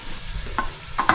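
Vegetables sweating in butter in a pot for corn chowder, giving a soft low sizzle with a few brief stirring clinks up close.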